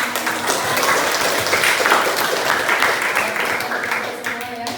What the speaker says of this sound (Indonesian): Aplaus untuk kalian.